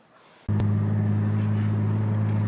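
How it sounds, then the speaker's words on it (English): A 1992-2002 Lexus ES300 on a test drive after an axle and tie rod end replacement sets off with an abrupt onset of steady, loud low engine and road rumble inside the cabin. "We're test driving the Lexus after the axle replacement."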